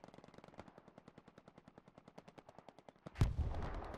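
Automatic gunfire rattles in a steady rapid stream during a video game tank battle, followed near the end by a loud burst like a rocket impact or explosion, with no talking.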